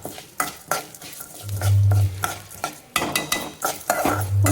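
Spices, including a quarter spoon of fenugreek, frying over a low gas flame in a pan, with repeated scraping stirs and clinks of a utensil over a steady sizzle and a low hum in places.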